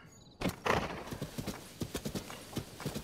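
Horse hooves clip-clop in Zelda: Tears of the Kingdom, starting with a heavy thump, then a steady trotting rhythm of clear hoofbeats at close range with faint voice nearby.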